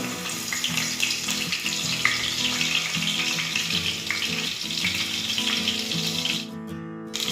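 Garlic frying in cooking oil gives a loud, close, steady sizzle that runs unbroken and briefly thins out just before the end.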